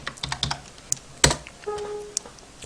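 Clattering keystrokes on a computer keyboard typing a short command, a rapid uneven burst of close, crisp taps with one louder key strike near the middle.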